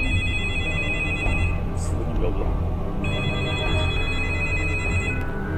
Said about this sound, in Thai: จู่ๆเสียงโทรศัพท์บ้านได้ดังขึ้นสนั่น